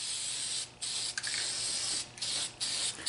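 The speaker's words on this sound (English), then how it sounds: "let's spray this thing down" DuraCoat aerosol can spraying gun coating onto a firearm: about five sharp hissing bursts, close and loud, separated by short pauses.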